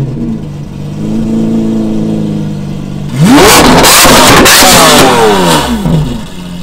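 A Lamborghini engine at a Marbella car meet fires up with a sharp roar and then revs hard several times, loud and close, rising and falling in pitch after a quieter stretch of steady idle.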